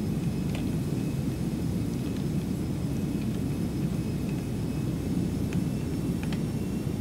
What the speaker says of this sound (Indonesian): Itu helikopter sekarang yang dekat sama saya.